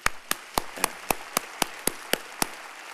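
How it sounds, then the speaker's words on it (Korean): About a dozen sharp, evenly spaced claps ring out at a Sunday church service, one pair of hands striking in a steady rhythm, close and crisp against a quiet room with no talking. "박수 한번 해야 돼"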